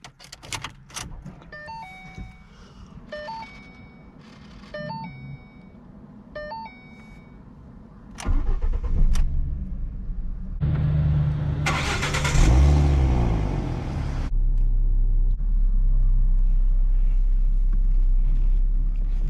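A 2012 Ford Mustang base model with a 3.7L V6 and 124,000 miles is cold started: a series of chimes and clicks first, then the starter cranks and the engine catches into a loud, steady, high-idle rumble heard from inside the car.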